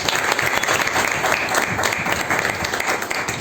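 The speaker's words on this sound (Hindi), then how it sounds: "सत्संग की घड़ी के लिए ताली।" An audience at a satsang, a Hindu spiritual gathering led by Sant Anil Sai Udasin, claps steadily and densely from start to finish, filling the room with continuous applause and no break.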